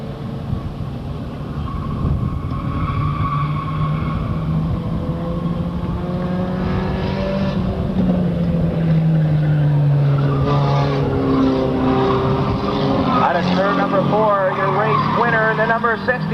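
Race cars circle the oval at Riverglade Speedway, a loud continuous engine roar with tires squealing and pitch sweeps as cars pass, while an announcer talks over the track noise throughout.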